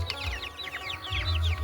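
Small young chickens chirp and cluck close by, many quick high calls overlapping in a busy stream over a low background rumble.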